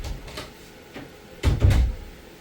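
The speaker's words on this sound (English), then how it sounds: "let's close the door" A resin printer's hinged door, an AnyCubic Photon M3 Max, swings shut with a couple of close clunks and rattles, preceded by lighter handling knocks.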